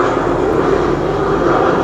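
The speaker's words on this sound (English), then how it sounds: "let the plane go by" An airplane passes overhead as a loud, steady broadband roar of aircraft engine noise, with no other sound standing out.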